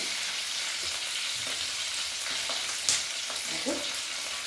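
A steady hiss of spices frying in hot oil, with a few stirring clinks and scrapes rising briefly above the continuous sizzle.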